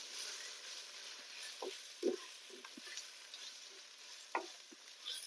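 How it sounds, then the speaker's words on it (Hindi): Chickpeas frying with onions in a pan for street-style Lahori chana, a faint steady sizzle broken by a few soft stirring clicks. "हम इसमें थोड़ा करेंगे चनों को फ्राई प्याज के साथ"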